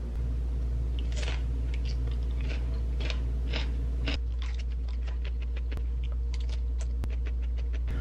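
Crisp, crunchy bites and chewing of raw Jeju carrot, close and fairly loud, with several distinct bites early on and steady munching after, no talking.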